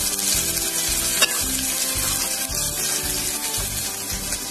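Colocasia leaf bhaji being stirred in a pan: a continuous loud sizzle with a repeating rhythmic scrape of the spoon against the pan, close up, with one sharp knock partway through.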